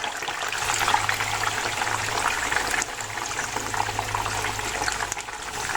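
Paneer pieces frying in a pan for Kashmiri Wazwan-style paneer produce a continuous crackling sizzle with a faint low hum beneath. The sizzle stays close and fairly even, with no speech.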